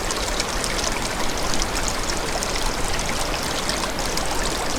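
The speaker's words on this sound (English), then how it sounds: "I thought this was the waterfall." A waterfall roars in a continuous broad rush of falling water, loud and steady throughout with no voices over it.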